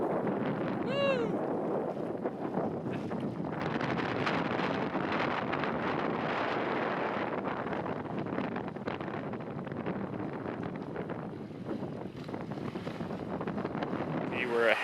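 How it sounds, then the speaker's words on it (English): Strong gusting wind buffets the microphone on a river during a canoe trip on the Kopka River in Northern Ontario wilderness, a loud continuous roar with rushing turbulence and no talking. "Wow, what a wind."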